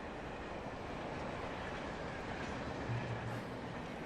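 A train in Alan Wake rumbles past at a distance with a continuous low roar and faint clattering wheels, fairly quiet and steady throughout.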